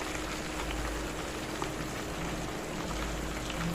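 Butter melting down into ghee in a pan, simmering with a steady, dense bubbling and crackling that runs evenly throughout, close and moderately quiet.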